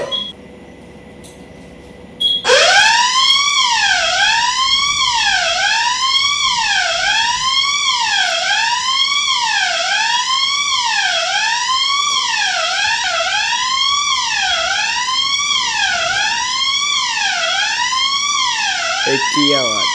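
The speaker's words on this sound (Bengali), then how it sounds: "সাইরেন বাজছে" A siren fitted to a car wails steadily and loudly, rising and falling in a fast regular cycle, near and continuous after a brief quieter start.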